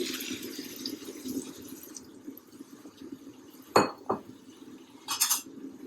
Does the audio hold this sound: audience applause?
no